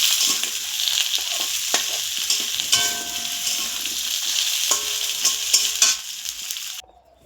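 Onions frying in a karahi (wok) on a home stove, a steady close hiss with scattered spatters and clinks of a spoon stirring, then the sizzle cuts off abruptly near the end.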